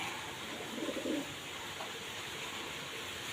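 Soft cooing from a pigeon, likely one of a pair, in a coop, heard briefly and faintly near the start amid steady background hiss, with no talking.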